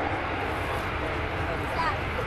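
A Royal Air Force Harrier GR7A/9 jet roars at an air show, a dense, steady broadband rumble that stays loud and unbroken for a couple of seconds.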